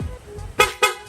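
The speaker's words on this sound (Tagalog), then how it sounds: "isa pa nga sir, isang loud horn pa." Two short, loud honks from a loud aftermarket horn on a Honda Click V3 motorcycle in quick succession, sharp and close, after a quiet moment.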